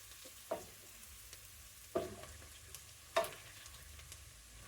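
Rice cooking in a pot gets stirred, with a soft, steady sizzle under four distinct scraping strokes of the spoon spaced about a second apart, close by and without talk.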